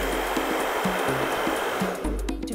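A hair dryer blows heat onto hairspray-set hair, a loud continuous whooshing roar that briefly dips in pitch and steadies near the end, with no talking.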